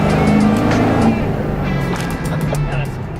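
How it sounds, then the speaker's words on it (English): Heavily modified 500 hp 7.3 Powerstroke diesel truck roars loudly on a dyno at peak power, a steady deep engine drone with rising exhaust noise throughout, close and dominant. "Makes your butt pucker when that exhaust blows off."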